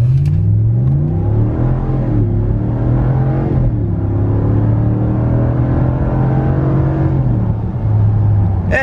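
A 2019 Ram truck launches from a dead stop at full throttle, its engine droning loud and steady with pitch climbing and dropping through gear shifts across the whole stretch.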